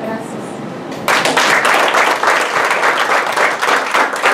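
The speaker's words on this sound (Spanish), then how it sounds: "Que suene el aplauso, pero más fuerte." Audience applause at a quinceañera celebration breaks out suddenly after a short quiet moment, then continues as loud, dense, sustained clapping from a full room of guests.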